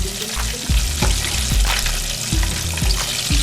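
Chicken pieces for lemongrass coconut curry fried chicken crackle loudly in a pot of hot oil at medium-high heat, a dense steady sizzle broken by repeated knocks and scrapes as the pot is swirled about every half second.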